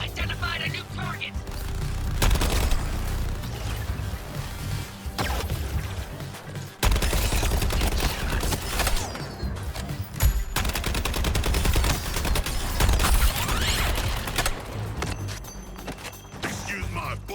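Rapid gunfire in Suicide Squad: Kill the Justice League, dense continuous shooting and impacts running throughout, with characters speaking over the action.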